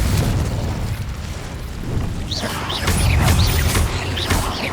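Repeated Confringo fire-spell blasts in Hogwarts Legacy inside a spider-filled cave, a series of loud booming bursts with crackling pops stacking up over a continuous rumbling roar.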